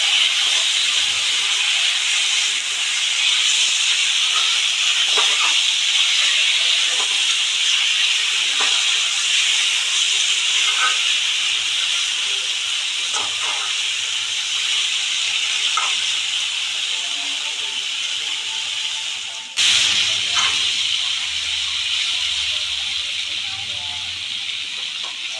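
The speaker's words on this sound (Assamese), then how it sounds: "এতিয়া এড কৰিছোঁ ইয়াতে পটল আৰু আলু, এইখিনি ধুনীয়াকৈ এতিয়া ভাজি ল'ম।" Pointed gourd and potato frying in a pan give off a steady, loud hiss of oil that runs unbroken, with faint clicks and a brief shift near the end as the pan is handled.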